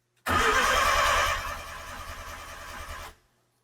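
A Mazda RX-7 race car's engine cranks on the key for about three seconds with a rapid rhythmic whirring chug, loud and close, then stops without catching.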